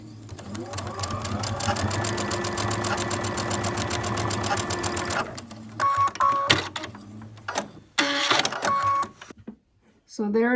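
A sewing machine stitching quilt block pieces together, with a fast steady mechanical whirr for several seconds and then short bursts of stitching separated by pauses.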